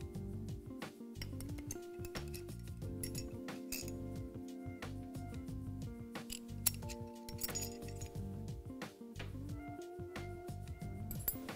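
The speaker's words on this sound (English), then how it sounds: "the rotor case can be easily removed" Metal parts clink and tick in quick irregular taps as the rotor case of a Fristam FKL pump is removed, light close-up knocks over a faint steady hum with no talking.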